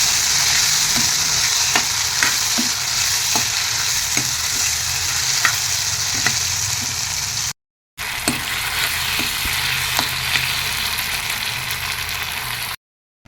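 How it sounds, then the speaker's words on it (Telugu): Steady, loud sizzle of green chilies and peanuts frying with repeated light scraping and stirring taps over it. No one talks, and the sound stops briefly twice. "ముందుగా వేసుకున్న పచ్చిమిర్చి వేయించాక కొద్దిగా పల్లీలు కూడా వేయించాను"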